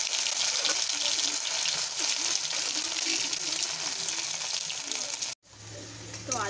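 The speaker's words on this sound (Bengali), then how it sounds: "এবার আমি দিয়ে দেবো এই টুকরো করা আলুগুলো, একটু ভালো করে ভেজে নেবো।" Cut potato pieces frying in hot oil, a steady bright sizzle that stays close and even throughout, with a faint stir or scrape near the end.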